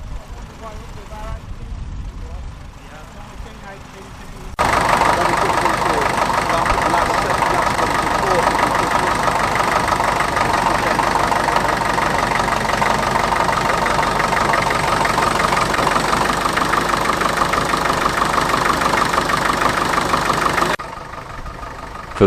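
A tractor engine drones steadily and loudly while ploughing for most of the clip, preceded by a quieter idle, with faint talk underneath.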